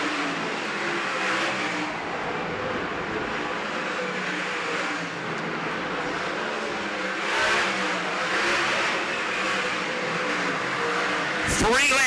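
Sprint car engines roar at Baypark Speedway during a heat race, a loud, sustained, high-pitched howl that rises and falls as cars pass, ending in a sharp revving surge.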